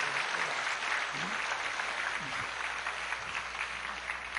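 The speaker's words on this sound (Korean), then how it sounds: "박수 쳐" A church congregation breaks into applause during a sermon, a dense and fairly quiet patter of many hands heard from a distance, lasting several seconds.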